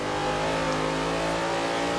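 A tuned car in the racing game Forza Horizon 4 revs hard, a loud sustained engine roar that climbs and holds for about two seconds.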